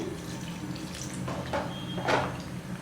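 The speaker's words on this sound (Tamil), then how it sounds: "இன்னும் கொஞ்சம் தண்ணி விட்டுக்கிறேன்" Water poured into a pan of cauliflower masala gravy, a soft running splash with a brief sizzle-like hiss, fairly quiet and close.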